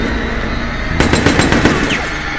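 An AK-47 fires a rapid automatic burst in the third-person shooter Resident Evil: Operation Raccoon City, loud and close, with a string of sharp cracks after a second of steady game ambience.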